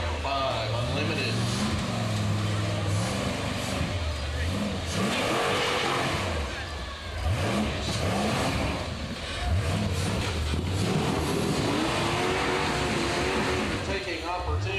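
An unlimited class race vehicle runs a hill climb course at a King of the Hill event, its engine revving and surging through repeated rises and drops in pitch, loud and close, with a commentator talking over it.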